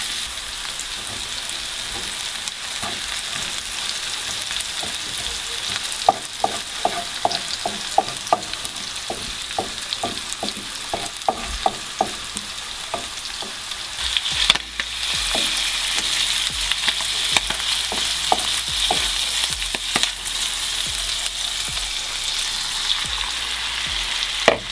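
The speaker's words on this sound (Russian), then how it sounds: "Жарим также пару минут." Bell pepper and other vegetables sizzle and crackle in a hot pan, with scattered pops and the occasional clack of stirring. The frying grows louder about halfway through.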